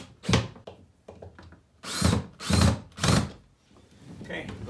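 A power drill drives screws into a Harbor Freight Power Fist metal tool storage service cart during assembly, with several short, loud whirring bursts, three close together near the end, separated by brief pauses and faint handling noise.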